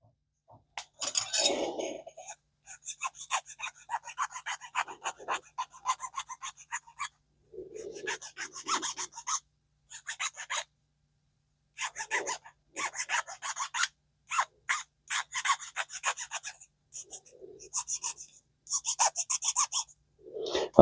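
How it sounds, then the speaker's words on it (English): Repeated bursts of harsh rasping from a metal file on a Zebco Cardinal 3 fishing reel part, strokes coming in uneven groups separated by short silences, close and fairly loud. "so I'm going to file that"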